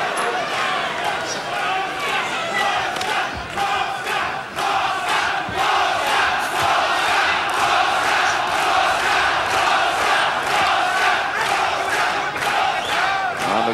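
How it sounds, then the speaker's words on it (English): A large indoor crowd at a heavyweight title fight roars and shouts continuously in round three, growing more animated, with voices talking over it. "Crowd starting to get animated too,"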